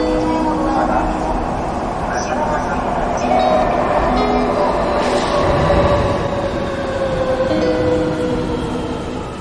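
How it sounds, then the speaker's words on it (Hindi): A metro train pulls into a station with a loud, continuous rumble and rolling rail noise and some faint high squeals, and a voice talks over it. "वहाँ से मेट्रो आ भी गई"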